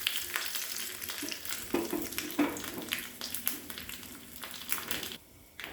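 Tempering of urad dal, a dried red chilli and curry leaves in hot oil for pineapple chutney, a close, crackling sizzle with sharp pops and a short stir, alone and fairly faint.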